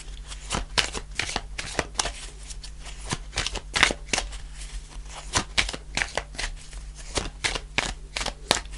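Rapid riffling and slapping of tarot cards being shuffled, a steady run of crisp clicks and flutters repeating close up with no talking.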